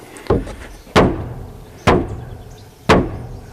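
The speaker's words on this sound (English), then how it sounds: "There's a big hammer there if you need to, got to hit about a foot up." A big hammer strikes the bottom of a standing cabin wall four times, each blow a loud, close, woody thud with a short decay, spaced about a second apart.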